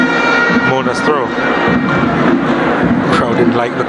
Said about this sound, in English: Crowd didn't like the call.